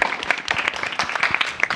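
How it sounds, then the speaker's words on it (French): A short burst of audience clapping at a talk on leadership and professional success, individual claps distinct and uneven, close and moderately loud, with no speech over them. "on applaudit encore"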